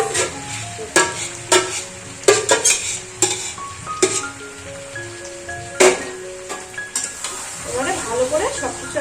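Fried chicken pieces are stirred into a thick, wet masala paste in a pot for biryani, a spoon scraping and clanking against the metal over a steady sizzle. Someone speaks between the stirs.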